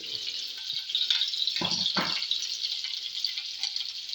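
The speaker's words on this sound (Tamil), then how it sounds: "வெங்காயத்தை வதக்குறோம் இது நான்ஸ்டிக்காக இருந்த தவா" Onions sautéing in oil in a nonstick tawa for a simple Tamil lunch, a steady close sizzle with a couple of brief stirring scrapes, no talk.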